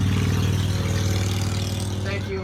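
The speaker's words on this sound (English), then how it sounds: "Thank you, Loud Motorcycle, for allowing your input." Steady, loud engine drone with a mid-range revving tone runs throughout from a loud motorcycle passing, holding near and strong before easing slightly at the end.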